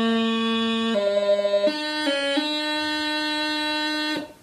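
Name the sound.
throw on D embellishment played from low A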